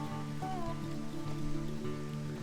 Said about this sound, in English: with this rain that we're getting, maybe it won't be for very long